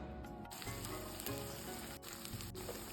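Spicy chicken momos fry and steam in a covered pan, giving a dense continuous sizzle and crackle close by, with a steady bubbling hiss throughout.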